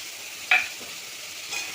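Fish pieces coated in turmeric and salt sizzle in hot oil with cumin, mustard seed, and green and red chillies, with a sharp stirring clink partway through over a steady close frying hiss.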